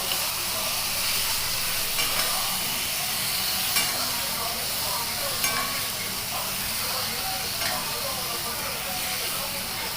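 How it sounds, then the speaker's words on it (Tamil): Tomatoes sizzle steadily in a frying pan for a Tamil tomato thokku, making a dense continuous hiss. A few soft clicks of stirring come through, and no one talks. "இப்போ மேலே எல்லாத்தையும் நல்லா திருப்பி போட்டு வதக்கிடலாம். தக்காளியும் நல்லா வதக்கிடலாம்."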